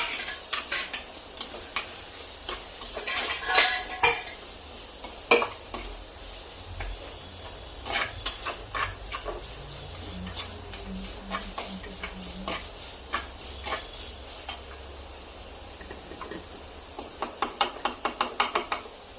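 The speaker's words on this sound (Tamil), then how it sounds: "இஞ்சி பூண்டு பேஸ்ட் சேர்த்து கொஞ்சம் நல்லா கிண்டிக்கோங்க." Ginger garlic paste and tomato frying in a pan for a Nallampatti chicken recipe, stirred with a utensil: steady sizzling under repeated scraping and tapping strokes, close and clear, with no talking.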